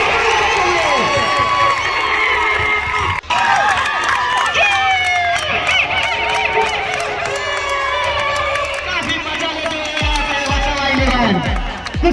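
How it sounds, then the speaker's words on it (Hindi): A crowd at a box cricket tournament in Varedia claps and cheers nonstop, with loud shouts, whoops and excited voices from a lively audience. "यहाँ पे बसावा की पूरी पब्लिक हर गेम पे तालियां बजाते हुए"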